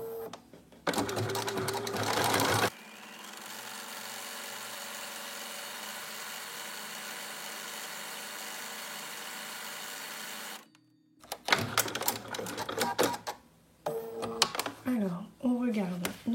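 Sewing machine stitching scalloped edges into fabric: a fast, steady mechanical whirring chatter that runs for several seconds, close and fairly loud, bracketed by a person talking before and after.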